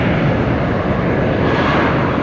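Loud, continuous roar of an airplane engine at Tampa International Airport, a dense broadband rumble holding steady as the aircraft is close by and powering up for takeoff.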